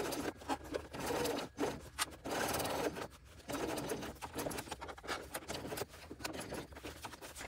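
Sewing machine runs in short stop-start bursts while top stitching around the curved pocket of a fabric tote bag, its close mechanical whirring broken by brief pauses for pivoting.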